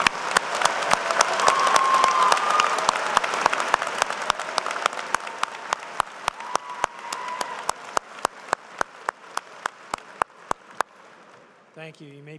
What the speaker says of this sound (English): And let's give them all a round of applause.